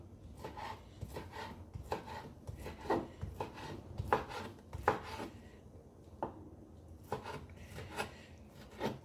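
Knife chopping food into very small pieces on a board while preparing baked potatoes with egg and cheese: quick, close, uneven strokes in short bursts with brief pauses between them.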